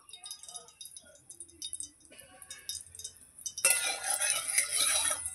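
A metal wok scrapes and clinks against the stove as it is straightened over heated oil in a home kitchen, producing short close clanks, followed by a louder burst of sizzling.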